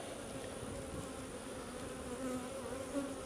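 Honey bees buzzing around an open beehive during an inspection, a steady dense hum of many insects close by, continuous and moderately loud with no talk.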